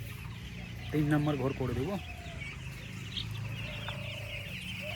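Chickens cluck steadily on a village poultry farm, fairly close and continuous, while someone talks over them for the first couple of seconds.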